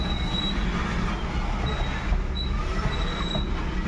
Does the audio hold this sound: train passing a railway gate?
yes